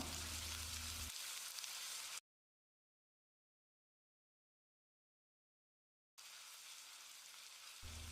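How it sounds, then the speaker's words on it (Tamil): Marinated chicken frying in a pan over high heat gives a steady loud sizzle, cut by a long stretch of silence before the hissing returns. "நம்ம மேரினேட் பண்ணி வச்சுருந்த சிக்கனை போட்டு 1 நிமிஷம் நல்லா பெரட்டி விடணும்"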